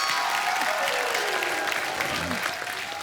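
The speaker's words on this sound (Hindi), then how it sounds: "एक बार जोरदार तालियां इन सारे सुपर हीरो के लिए।" Audience applause at a comedy talk show honouring cricket legends, dense steady clapping throughout with a faint voice over it, easing slightly toward the end.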